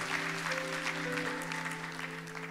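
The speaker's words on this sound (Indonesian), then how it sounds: "berikan tepuk tangan bagi nama Tuhan" A church congregation claps together during a worship service, a dense steady patter of many hands. Sustained tonal notes from music play underneath, and no one speaks over it.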